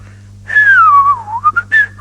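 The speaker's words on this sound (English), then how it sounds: "Butcher started to whistle." A person whistles a sliding tune, falling then rising in pitch with a few short staccato notes at the end, close and loud over a low hum.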